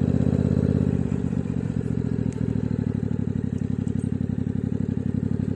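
A motorcycle engine, a Yamaha MT-07, rumbles loud and close with a steady throbbing idle and revving, a brief clatter partway through, no talk.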